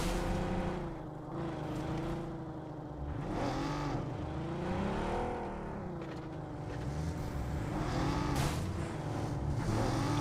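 A car engine in the BGMI mobile battle royale game drones and revs steadily throughout, rising and falling in pitch as the vehicle drives, fairly loud and continuous with no talk over it.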